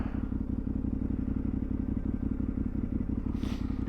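A motorcycle rides along a dirt road through a forest, its engine droning steadily and loudly with low rumbling throughout, plus a brief hiss of gravel or wind near the end.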